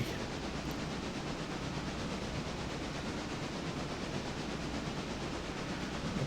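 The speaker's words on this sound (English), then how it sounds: "passenger train slowing down" A passenger train slows down in the railway simulation game Railroader, with a steady broadband rumble and rolling hiss that holds evenly throughout, heard as a constant wash of sound with no talking.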